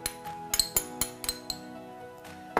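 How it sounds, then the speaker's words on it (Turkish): A spoon stirs dill into pepper dolma stuffing for an olive-oil stuffed pepper dish, giving a series of sharp, close clinks and taps against the bowl in an irregular rhythm, with a final clink at the end. "Bunu da güzelce karıştırıyoruz bu şekilde."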